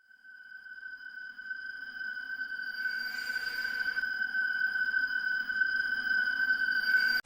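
Eerie electronic music cue from Five Nights at Freddy's 3, played when Springtrap appears on a camera near the office: a steady high sustained tone with a softer upper drone and low rumble, swelling slightly and continuing alone throughout.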